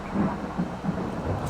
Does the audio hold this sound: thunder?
yes